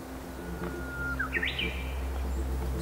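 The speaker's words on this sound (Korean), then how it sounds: "사방에서 섬 휘파람새가 듣기 좋게 울었다." A Japanese bush warbler sings on an island in Tongyeong, one short rising and looping whistled phrase standing out clearly over a steady low rumble of background noise.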